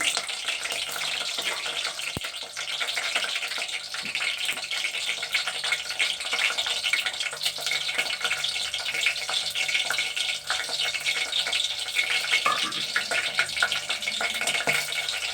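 Curry leaves and green chillies sizzle steadily in hot oil in a pan, a dense continuous hiss at moderate level with no voices over it.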